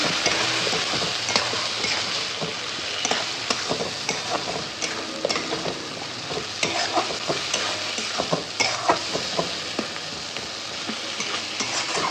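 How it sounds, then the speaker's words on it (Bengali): Green chilli and tomato paste masala sautéing in a pan for a mutton curry: continuous close sizzling with frequent quick spatula scrapes and ticks against the pan. "আগে থেকে কাঁচা লঙ্কা টমেটো পেস্ট করে রেখেছিলাম, সেই পেস্টটা। মশলাটা একটু কষিয়ে নিই।"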